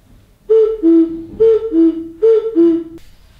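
A clay whistle plays a two-note cuckoo call, high then low, repeated three times in an even rhythm, clear and close with no talking.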